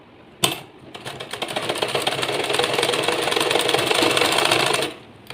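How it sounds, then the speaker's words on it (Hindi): A sewing machine runs steadily for about four seconds, stitching a decorative band around a wide fabric neckline, its rapid rhythmic clatter close and loud, starting with a click and stopping abruptly. "कुछ इस तरीके से सिलते जाना है।"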